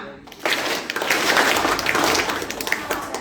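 Seminar audience clapping during a clapping game at an Indonesian legal outreach session on the ITE law, a dense burst of many hands clapping together at close range, steady for about three seconds.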